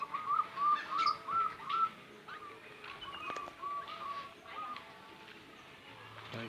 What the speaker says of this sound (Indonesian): Lagi burung lobet